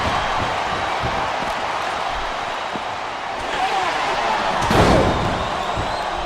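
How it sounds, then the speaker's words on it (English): A crushing leg drop lands in the wrestling video game WWE SmackDown vs. Raw 2009, a heavy thud near the end that rises over a steady roar of arena crowd noise. "What a crushing leg drop."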